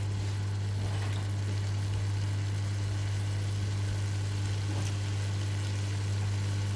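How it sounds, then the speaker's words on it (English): A home microwave oven running, a steady low electrical hum and faint whirring drone that stays constant and unbroken, close by and fairly quiet, with one faint tick partway through. "That's the microwave."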